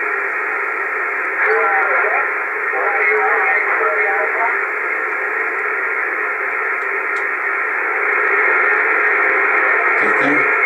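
A shortwave radio receiver hisses with steady band-limited static, a station barely above the noise level showing as a faint, garbled voice buried in the hiss, with brief clicks near the end.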